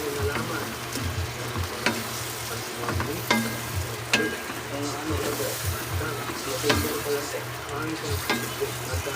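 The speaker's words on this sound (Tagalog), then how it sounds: "Yan, nilagay na natin yung shrimp." Shrimp frying in a pan for Filipino garlic shrimp, a continuous close sizzle with clinks and scrapes of stirring throughout, with a low background hum.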